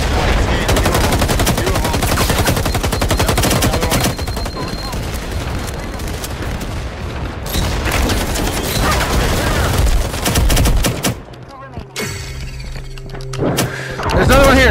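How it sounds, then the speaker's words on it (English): Rapid automatic gunfire in an online shooter game, loud dense bursts of shots rattling nearly nonstop before dropping away into quieter game sounds and a final burst, with players talking excitedly over it. "Hank, Hank, just shoot him, shoot, shoot, shoot, shoot"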